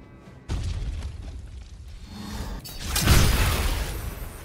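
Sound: bombs exploding in a video game

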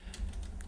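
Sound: typing on a computer keyboard

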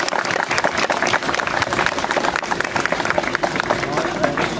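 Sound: audience applause at brass band festival

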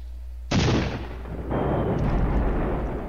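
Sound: heavy guns artillery fire, from a video game

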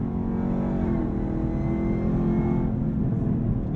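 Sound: 2023 Camaro ZL1 supercharged engine, 10-speed automatic shifting on track

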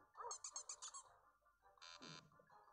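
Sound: dog barking in a video game

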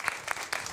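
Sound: applause welcoming Maria to the stage

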